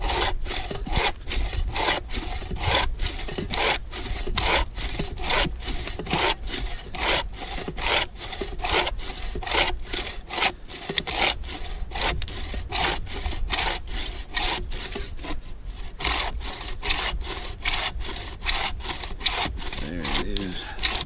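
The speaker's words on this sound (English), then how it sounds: "This is Cedar FatWood, guys. Cedar nut. I'm just trying to get some little shavings here." Knife shaving small curls off a piece of cedar fatwood, a steady run of close, rhythmic scraping strokes for the whole stretch with no pauses.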